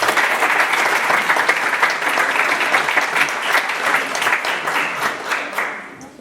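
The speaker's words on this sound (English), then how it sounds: "huge applause." Audience at a Dare to Dream business competition finals breaking into applause, a loud, even wash of many hands clapping close by, sustained throughout and tapering slightly at the end.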